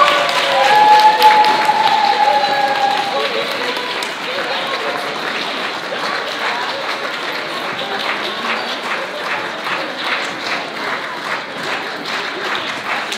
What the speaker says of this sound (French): veuillez les applaudir encore une dernière fois